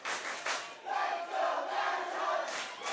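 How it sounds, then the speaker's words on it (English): A crowd at a high school lacrosse state championship game at Starfire Sports Stadium yells and cheers, rising in bursts of voices that swell and fade over a few seconds, fairly close. "That woke up the Vashon crowd."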